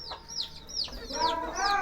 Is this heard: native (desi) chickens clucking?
yes